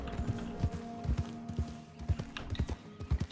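Horse hooves clip-clop at a steady trot in the video game Red Dead Redemption 2, rhythmic muffled thuds layered over ambient game music and background sound.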